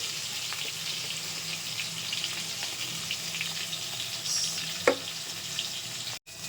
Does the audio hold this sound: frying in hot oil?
yes